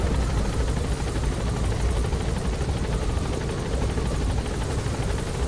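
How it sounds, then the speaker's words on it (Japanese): A helicopter in Metal Gear Solid V: The Phantom Pain drones loudly and steadily, its rotor and engine noise filling the whole stretch without a break. "ヘリの毎回めんどくさいですよ。"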